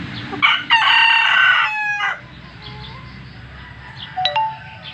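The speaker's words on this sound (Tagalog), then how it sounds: "Ang astig-astig ng pula kong manok." A red rooster crows once, loud and close, a long harsh cock-a-doodle-doo lasting over a second, followed by quieter clucks and a faint chime.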